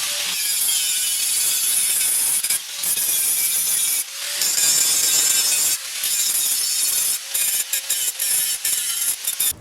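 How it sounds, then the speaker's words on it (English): A grinder strips paint and rust from the steel face plate of a snow plow, a loud continuous harsh whine that dips briefly a few times as the disc lifts off the metal. "I take my grinder and make sure that it's all the way, gets all the paint off, the rust off of it"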